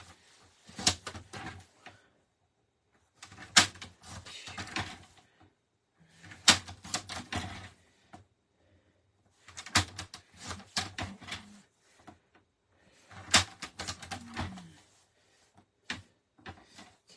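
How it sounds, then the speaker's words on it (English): Cardstock pieces for a watercolor melon card being cut with a paper trimmer, heard as five short bursts of clicking, sliding cuts separated by brief pauses, close and fairly quiet with no talk. "And then we need to cut these by 1 7/8."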